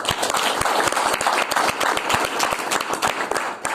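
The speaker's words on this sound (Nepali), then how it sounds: "ल उहाँको लागि जोरदार ताली सम्म" Enthusiastic audience applause from a crowd at a motivational talk, dense steady clapping filling the room for several seconds with no voices over it.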